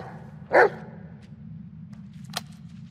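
A dog in the Blair Witch video game gives a single sharp, close bark, followed by faint soft shuffles and a brief light tap over a steady low hum.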